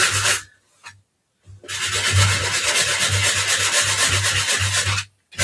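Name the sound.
sandpaper scuffing the edge of a craft piece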